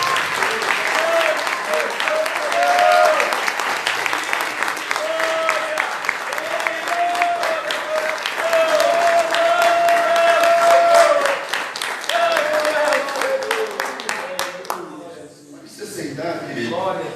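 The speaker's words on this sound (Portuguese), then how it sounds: "Você pode dar uma linda salva de palmas para a palavra de Deus?" A church congregation gives long, loud applause, a dense roar of many hands clapping for about fifteen seconds, with a sustained musical tone and some cheering voices underneath before it tapers off.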